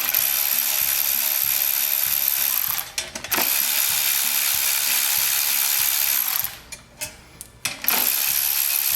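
A socket wrench ratchets steadily close up while a fan is removed from a Kawasaki engine. The fast, even clicking runs throughout, with short pauses where the handle is reset and a few metallic clinks.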